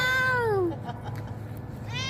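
A cat meows loudly and close by in one long, falling call, then the room goes quiet apart from a low background hum, before a second meow begins near the end.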